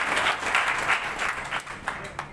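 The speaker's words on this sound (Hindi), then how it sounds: "जोरदार तालियां जाकर हम इनका स्वागत करते हैं।" A rally crowd in Thanesar, Kurukshetra applauds to welcome a newly elected minister. Steady, fairly loud rhythmic clapping from many hands fills the clip and tapers toward the end.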